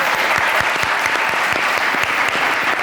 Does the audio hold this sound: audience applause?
yes